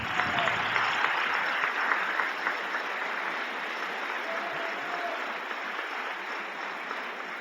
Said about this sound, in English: please give a big warm round of applause to Minister Abel Muhammad